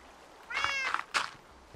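A cat in Minecraft gives two short meows in quick succession, close and clear, with no other sound around them.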